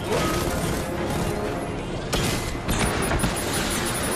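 Gunfire and explosive impacts in Batman: Arkham Knight, a dense loud barrage of shots and crashes with booming bursts, continuous and close.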